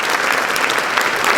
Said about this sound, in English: Governor John Kasich, let's give him a big round of applause.